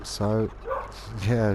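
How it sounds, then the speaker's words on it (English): A pet dog barks outside during a Farming Simulator 22 gaming session, short bursts heard behind a voice talking over them. "that's my dog barking now"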